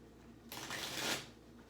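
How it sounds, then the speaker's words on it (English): A tarot card deck shuffled by hand, one quick riffling burst of papery flutter lasting under a second, close and fairly quiet, with near-silence before and after. "I need to give this deck one more shuffle."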